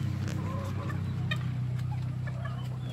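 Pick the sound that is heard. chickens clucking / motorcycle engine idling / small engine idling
chickens clucking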